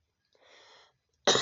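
A single short, sharp cough bursts out near the end, after a soft breathy sound, in an otherwise quiet room.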